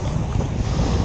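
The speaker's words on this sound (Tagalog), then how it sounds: "Kasi malakas yung hangin eh." Strong wind sweeping across a black sand beach in Naic, Cavite, a loud, continuous blustery roar buffeting the microphone, with a low rumble of surf beneath and no one talking.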